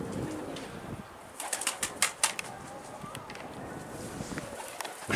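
Pigeons taking off and flying near a rooftop loft, a burst of sharp wing claps and flapping in the middle, faint cooing and outdoor background around it.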